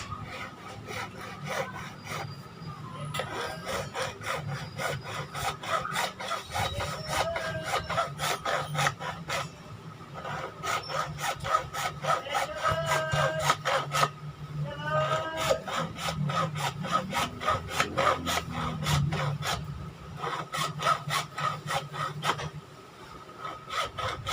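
A hacksaw cuts through black PVC pipe in long runs of rapid back-and-forth rasping strokes, with brief pauses between bursts.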